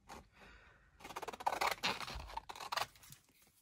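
Scissors snipping through material on a desk, several quiet close cuts and rustles in short bursts, with no one talking.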